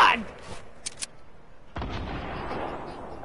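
A single sharp sniper shot cracks out in a first-person shooter game, followed by a heavy boom and rumbling noise, with brief clicks before it.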